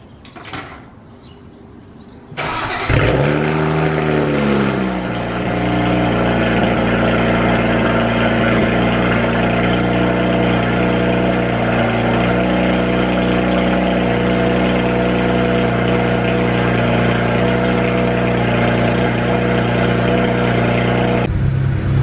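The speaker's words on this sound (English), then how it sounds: "I'm gonna do a startup, cold start, a little warm up and rev" A car cold-starts with a starter crank and quick flare, then settles into a steady, loud idle on its stock exhaust before a custom system is fitted; the engine drones continuously, close to the microphone, with no talking.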